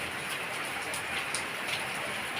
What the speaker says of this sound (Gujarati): અત્યારે અવાજ તમે સાંભળતા હશો વરસાદ ચાલુ છે